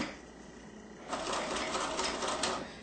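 A sewing machine stitches appliqué fabric, starting abruptly after a quiet second and running as a steady, close, rapid mechanical whir with no talk.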